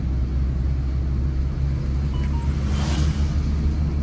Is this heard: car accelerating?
yes